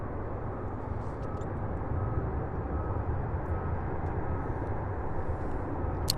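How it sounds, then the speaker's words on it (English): UPS Boeing 767 departing Louisville airport, a steady broadband jet roar that holds at constant loudness throughout, distant and continuous with no voices. "so many UPS departures, including the 767 on the move now, the first one"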